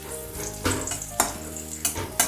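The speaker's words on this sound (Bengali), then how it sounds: "কিন্তু উচ্ছেটা একটু ভেজে নিতে হবে" Oil sizzles and crackles steadily in a pan as bitter gourd fries, with periodic scraping bursts from stirring breaking through the hiss.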